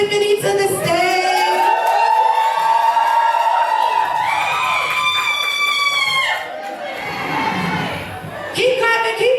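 A conference crowd cheers, whoops and screams loudly as a speaker comes on stage, a dense roar of excited voices with sustained shouts rising and falling, close and continuous.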